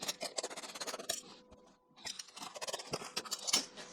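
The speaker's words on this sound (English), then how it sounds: "So I found a bigger knife, slightly older, but let's see if it'll let me finish the cut off with that." Knife sawing through a foam storage insert. Quick, close scratchy strokes come in bursts, with a brief pause and faint squeak midway before the rasping cuts resume, quiet overall.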